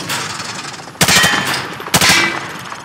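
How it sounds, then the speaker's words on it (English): A weapon in Call of Duty Modern Warfare 2 fires from the hip at range targets in two loud, close, rapid bursts separated by a short pause. "He sprayed bullets all over the damn place."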